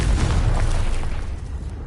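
A Confringo blasting spell explodes in a wizard video game, one loud booming burst that fades over under two seconds.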